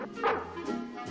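A dog gives a short, yipping bow-wow bark, close and moderately loud, lasting about a second with no talk around it.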